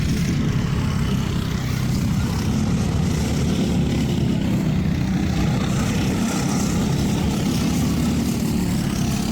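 A Briggs four-stroke racing kart engine screams at high revs on a short racetrack's main straight, a loud, steady, unbroken drone close to the driver throughout.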